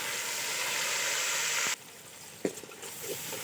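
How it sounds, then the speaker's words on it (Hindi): Yogurt added to frying masala for fish curry: a loud, bright sizzle that cuts off abruptly and drops to a quieter simmer, followed by a few soft stirring knocks. "ये मैंने 1 पाव दही लिया। अब मैं इसको मसाले के अंदर डालूंगा।"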